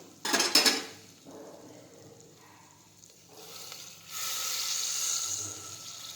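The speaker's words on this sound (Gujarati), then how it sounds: "હવે આપણે થોડું પાણી ઉમેરીશું." Water poured into a pressure cooker of pointed gourd curry, a short burst of clinking against the pot and then a steady pouring, splashing wash of moderate loudness.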